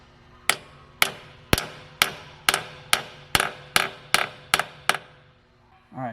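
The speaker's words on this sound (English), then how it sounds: "Then we're going to kind of tap it in a little bit." A hammer taps a metal drill guide into place on an engine crankshaft ten times in an even, deliberate rhythm, each strike sharp and close, followed by a brief scrape at the end.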